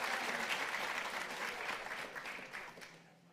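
Audience at a STEM National Honor Society induction ceremony clapping for parents and families, a full, steady round of applause that gradually fades out toward the end.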